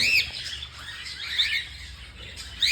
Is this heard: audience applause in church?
no